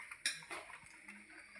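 Rice and boiled tapioca are served onto a plate for a Kerala home lunch, giving quiet, close clinks and scrapes of a utensil against the dish, one sharper knock standing out among soft taps.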